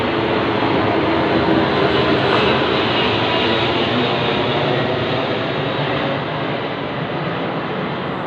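A big plane passes, a loud, sustained broadband roar that holds steady for several seconds and eases slightly toward the end.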